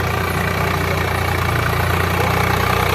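A Sonalika Maharaja tractor engine runs at a steady, loud idle with a deep, even throb while its hydraulic lift operates. The sound is unbroken for three seconds, with no voices.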